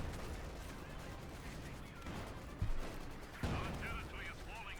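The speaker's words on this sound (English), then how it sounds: "Grenadiers being hammered there by the field guns, high explosive shells" Field guns firing high explosive shells and machine gun fire rumble through a Company of Heroes 2 battle, with two heavier blasts standing out over a steady, busy backdrop of combat noise.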